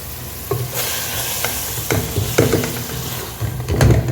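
Ingredients for Dindigul mutton biryani sauté in a pan, a close, continuous sizzle broken by repeated scraping and knocking strokes of a spoon stirring against the metal.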